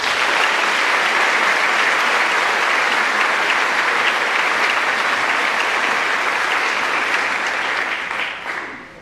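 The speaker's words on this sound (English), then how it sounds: "Please join me in a round of applause for our scholarship donors and presenters." An audience at a senior awards night claps in sustained, dense applause for scholarship donors and presenters, steady and full before tapering off at the end.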